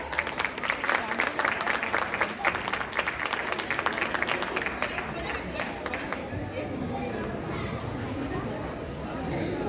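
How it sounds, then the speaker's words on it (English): Audience applause at a talent award ceremony: dense clapping from a crowd, loud and steady, tapering slightly toward the end with some cheering and chatter mixed in. "Ladies and gentlemen, a big round of applause."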